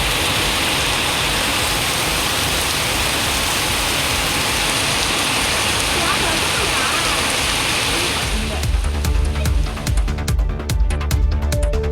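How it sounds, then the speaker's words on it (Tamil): Heavy rain pours down in Karaikudi, Sivaganga district, Tamil Nadu. It makes a dense, loud, steady hiss that fills the scene for about eight seconds, then gives way to quieter, more varied sounds. "சிவகங்கை மாவட்டம் காரைக்குடி மற்றும் அதன் சுற்றுவட்டார பகுதிகளில் கனமழை வெளுத்து வாங்கியதால் குளிர்ச்சியான சூழல் நிலவியது"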